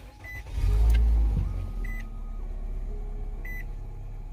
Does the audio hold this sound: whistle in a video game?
no